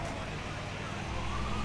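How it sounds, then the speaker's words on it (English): Ambulance siren in the GTA 5 video game, a faint continuous wail under steady game noise, with voices faintly present. "We don't give a damn about this ambulance."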